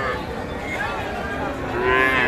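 Cattle low in repeated drawn-out moos at the busy Raniganj livestock market in Ghoraghat, Dinajpur, where young heifer calves are traded; the calls sound close and fairly loud over a constant crowd murmur, with the last moo rising the loudest.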